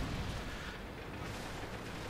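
The main gun of an E-50 tier 9 medium tank in World of Tanks fires as one loud, broadband boom. Its roar fills the whole short moment and then gradually fades.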